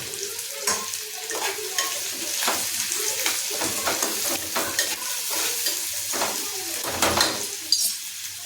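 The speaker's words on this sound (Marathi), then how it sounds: "आता आपण याच्यामध्ये चिरलेला कांदा टाकायचा आहे" Chopped onion and chillies fry in a pan for shev bhaji, a close, steady sizzle carrying frequent scraping and knocking of a spoon stirring against the metal, with no voices.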